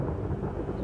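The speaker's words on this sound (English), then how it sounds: "Just starting to rain again." Rain beginning to fall with thunder at an outdoor archaeological dig in Lincolnshire, a steady low rumbling wash throughout, fairly loud and unbroken, with no voices.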